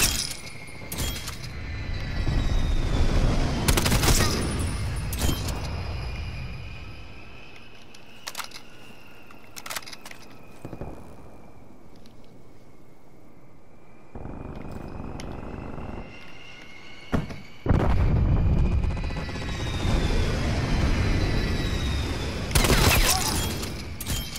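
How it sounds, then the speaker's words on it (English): In a video game, a strafe run hits with loud, dense bursts of rapid gunfire and impacts, first in a long close barrage, then quieter scattered shots, then another heavy volley. "Strafe run incoming on your location."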